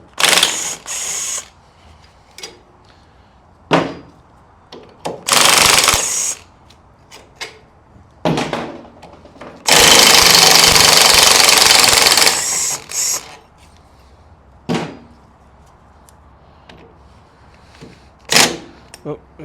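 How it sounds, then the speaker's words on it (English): Ratchet spinning bolts out of a Volkswagen floor pan during a Meyers Manx buggy teardown, sounding as several close, loud bursts of rapid clicking, one long steady run in the middle, with short sharp clanks between. "So let's pull these bolts out."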